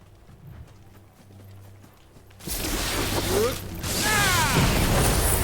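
Horse hooves clip-clop in Final Fantasy XVI, at first faint under a low game hum, then louder amid a burst of bright broadband noise and whooshing effects in the second half.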